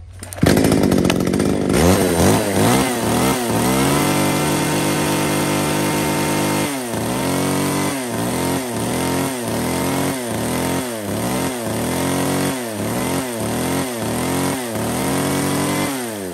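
A Tanaka 33cc Japanese-market chainsaw engine sputters to life, then idles and revs repeatedly in rhythmic surges, loud and close with no talk.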